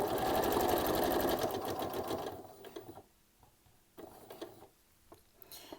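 Sewing machine stitching together fabric scraps for a crazy patchwork block, a fast close mechanical whirring run for about two seconds, then quiet handling clicks and rustles.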